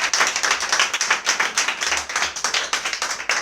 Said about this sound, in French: Est-ce que quelqu'un peut me donner une grande offrande d'acclamation ce soir?